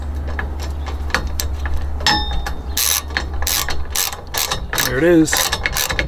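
A socket wrench ratchets in quick bursts of clicking as it tightens a bolt on a truck bed kayak rack, close and crisp, with short pauses and someone briefly speaking.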